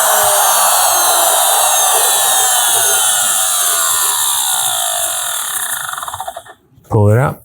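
A wood router, used on a beginner's wooden tray, winds down after switch-off: a loud, steady whine that slides lower in pitch for several seconds until it stops, followed by a brief voice.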